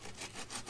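Saw cutting a small piece of scrap wood from a split spring pole, several quick back-and-forth rasping strokes, close and fairly quiet, in a short burst.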